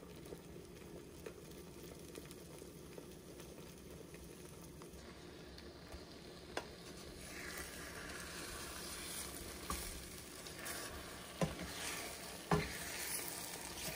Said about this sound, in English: Have y'all ever watched those liquid egg white things cook?